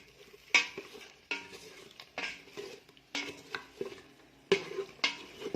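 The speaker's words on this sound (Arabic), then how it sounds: "وهنا زدنا حطينا البصله والثوم ونقعد نقلب فيها حتى تذبل البصله" Onion, garlic and meat are stirred in frying oil, with a spoon scraping the pan in repeated, distinct strokes about once a second over a faint sizzle, close and without talk.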